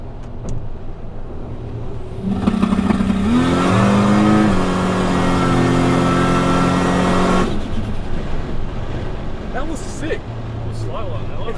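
An 800HP Ford Barra FPV F6 ute revs hard with rolling anti-lag, a loud close engine roar rising in pitch for several seconds before cutting off, followed by crackles and pops, with voices talking around it.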